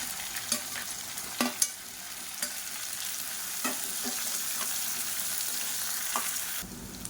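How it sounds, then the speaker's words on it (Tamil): Chopped garlic and about twenty small onions sauté in hot oil with a steady close sizzle, broken by occasional scrapes and taps of a stirring spoon. "இப்போ வெங்காயம் நல்லா வதங்கிருச்சு"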